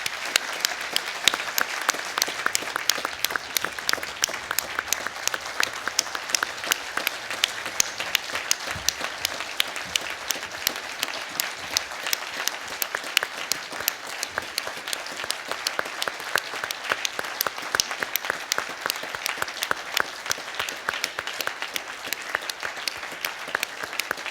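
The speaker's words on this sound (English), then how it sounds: "join me in Plaudite, which is applause for our new Chancellor" Sustained applause from a university convocation audience greeting a new Chancellor, dense steady clapping from many hands that fills the hall without pause.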